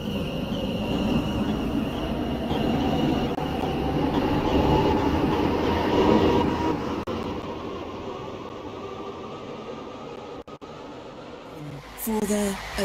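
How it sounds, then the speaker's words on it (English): Passenger train rumbling and clattering alongside a station platform at close range, fading toward the end as a brief squeal and a few knocks follow. "This train is formed of 5 coaches."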